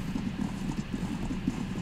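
Horses' hooves clip-clopping in a Viking roleplay video game, a quick, continuous patter of hoof steps, close and moderately loud with no voices.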